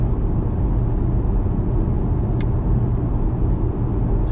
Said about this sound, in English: So if you're missing the noise of a two-cylinder petrol engine or whatever,